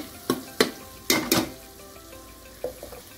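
Spices and goda masala being sautéed in a pan give a low sizzle under a handful of distinct clinks and scrapes from stirring, close by and without speech.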